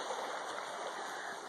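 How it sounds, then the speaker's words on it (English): A creek rushes steadily past at a trail-run crossing during a West Virginia mountain 50K, its flow a continuous close hiss and burble with no voices over it. "I just got to make it across this creek here"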